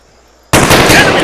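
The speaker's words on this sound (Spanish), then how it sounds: "ese disparo suena como artillero del tanque" After a brief quiet moment, a single loud, booming tank cannon blast erupts and rumbles on, a heavy shot in the video game Arma 3.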